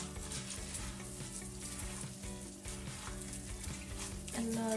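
A spiced stuffing mixture with tomato, garlic and mint fries and is stirred in a pan, giving a soft, steady sizzle with light scraping, faint and close, without talk.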